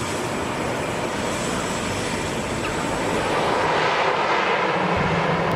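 An aircraft on approach to land at Lukla Airport makes a loud continuous engine roar that swells slightly toward the end, with no voices.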